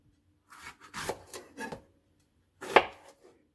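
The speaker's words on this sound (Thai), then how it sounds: "ก็มาหั่นมะเขือกันเลยค่ะ" Knife chopping home-grown eggplant on a board, a few close, quiet cuts in two brief bursts separated by a pause.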